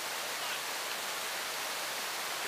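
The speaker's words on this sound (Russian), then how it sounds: "Смотрите, какие водопады." Waterfalls in a tropical park setting in Orlando, Florida, roar as a steady, dense broadband rush of falling water, continuous and fairly close, with no voices over it.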